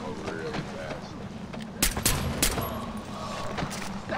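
Gunfire from the first-person shooter Far Cry 4, a few sharp bursts of shots in the middle of the clip over continuous game ambience, with someone speaking around them.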